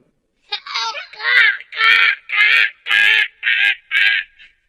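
A voice imitates a crow cawing for a children's story, giving about eight loud, close, harsh caws in a steady row, each short and separated by brief pauses.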